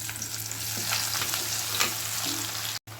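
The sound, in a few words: jackfruit pieces frying in coconut oil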